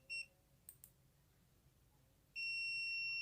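A digital multimeter set to auto range gives a sharp, steady high-pitched continuity beep when its probes touch, checking a capacitor on an LG 32LJ510D TV board. A short chirp sounds first, and then a loud continuous tone starts and keeps going.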